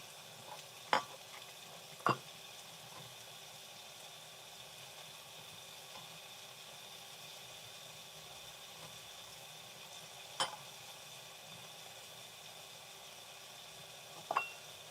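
Cabbage cooks in a pan with a faint, steady sizzle, broken by a few sharp clacks of a utensil stirring, close by and without talk.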